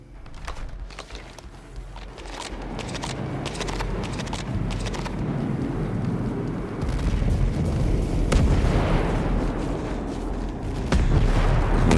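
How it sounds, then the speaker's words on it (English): Mortar rounds exploding around the player in Ghost Recon Breakpoint, a sequence of deep booming impacts with rumbling low-end tails, loud and dense, some strikes close and heavy, without talk. "he was still dropping mortars on me before he detected me"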